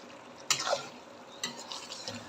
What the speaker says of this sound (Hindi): 4-5 मिनट भूनते हैं अच्छे से।